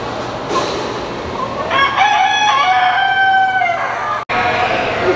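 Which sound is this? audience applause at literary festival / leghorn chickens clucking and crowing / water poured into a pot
leghorn chickens clucking and crowing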